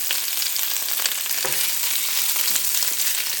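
Spinach sautés in a pan as a steady, close sizzle of frying hiss with a couple of soft stirring scrapes, no talking over it.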